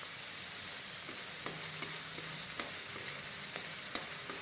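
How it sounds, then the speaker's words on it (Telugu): Curry leaves fry in oil in a pan for cabbage curry, giving a soft, steady sizzle with scattered faint crackles and light stirring taps. "దీంట్లో కొంచెం కళ్యాణాకుని వేసుకోవాలి"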